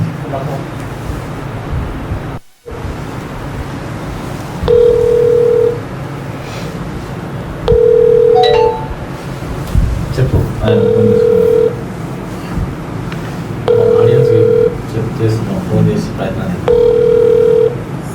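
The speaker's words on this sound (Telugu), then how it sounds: "ఇప్పుడు ఈ తమ్మిడి శ్రీనివాస్ గారికి మనం ఆన్లైన్ ద్వారా ఫోన్ చేసి లైన్లో తీసుకునే ప్రయత్నం చేస్తున్నాం" An outgoing phone call placed through an online calling service rings with a ringback tone repeating five times at even intervals over continuous background noise.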